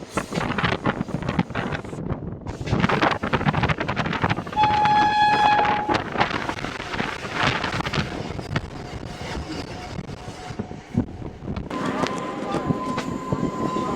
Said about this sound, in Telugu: సికింద్రాబాద్ నుంచి నాగ్పూర్ వెళ్ళే వందే భారత్ వస్తుంది చూడండి